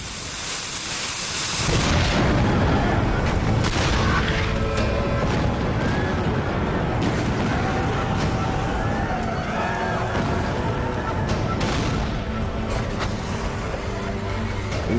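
Civil War cannon fire at the Battle of Gettysburg rumbles continuously after a brief quiet start, dense booms and crackling blending into a loud, sustained roar.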